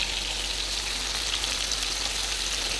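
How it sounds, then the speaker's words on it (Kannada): Steady, dense sizzle of whole fish, pearl spot and small coastal fish, frying in hot oil in a pan, continuous and fairly close with no speech over it. "ಇವಾಗ 4 ಮೀನು ಸಾಕು ಫ್ರೈ ಮಾಡಲಿಕ್ಕೆ."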